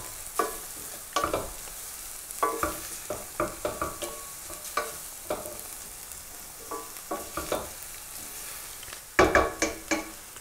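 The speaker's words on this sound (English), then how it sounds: "then I'm going to stir it around" Fenugreek seeds frying in ghee for a chicken curry crackle and sizzle in a pan while a spoon scrapes and stirs in repeated short strokes, close and clear with no talk.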